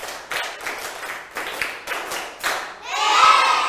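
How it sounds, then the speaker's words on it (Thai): Primary-school students in a Thai televised maths lesson clap hands in a quick, even rhythm of sharp bursts, ending in a louder burst of crowd noise. "ปรบมือ1ชุด"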